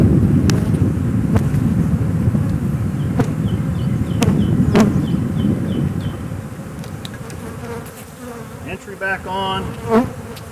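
Honeybees drone steadily around an open brood box during Demaree swarm control, a dense close buzz with wind buffeting the microphone, easing slightly toward the end as individual bees pass near.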